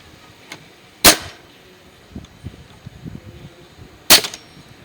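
A nail gun fires nails through a board held against a wall stud, giving two sharp, loud pneumatic shots about three seconds apart, with quiet handling noise between them.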